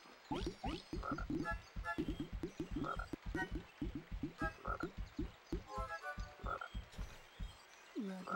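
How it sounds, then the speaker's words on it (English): A mother frog croaks in the Winnie the Pooh's Rumbly Tumbly Adventure video game, with a loud, continuous run of rapid, rhythmic croaks and no talking. "That mother frog misses her little ones, and she's making so much noise I can't get any rest."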